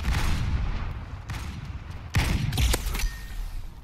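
Gunfire in the shooter Halo Online: a few sharp, loud shots, with a heavier burst near the middle, over a steady rumbling game backdrop.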